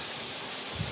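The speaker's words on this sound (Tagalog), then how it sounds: "malakas ang hangin kasi meron na naman daw na papasok na low pressure" Steady broadband wind in a rural Bicol, Philippines vegetable garden roars against the microphone, a constant rushing hiss with low buffeting rumble throughout.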